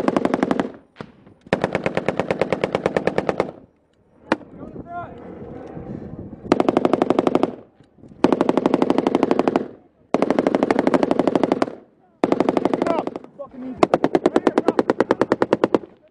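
M240 and M249 machine guns fire in a firefight, long loud bursts of rapid automatic shots repeating with short gaps, close and dominant, with brief shouting between bursts.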